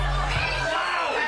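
A packed crowd at an RWL professional wrestling show cheers and shouts, a dense, loud roar of many voices with whoops rising over the din for the whole short moment.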